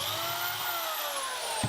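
Power drill whining at high speed as it pre-drills a hole through a thin wooden slat of a garden harvest basket, a short, close, steady burst that slows slightly at the end.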